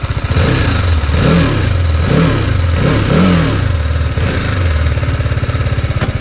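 A TVS Apache RR310 motorcycle engine idles with a steady close thrum, rising in a few quick revs before dropping back to a rough idle.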